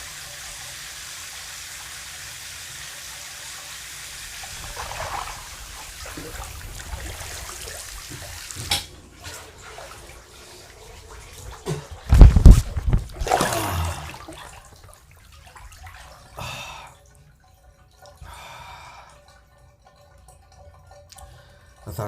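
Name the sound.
waterfall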